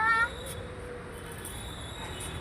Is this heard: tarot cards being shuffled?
no